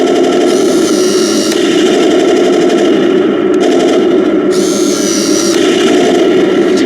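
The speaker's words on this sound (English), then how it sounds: "And then if we fire the main gun" Main gun on a remote-control King Tiger tank model fires twice, each shot a loud electronic cannon effect with a ringing tail, heard close over a constant whirring toy motor hum.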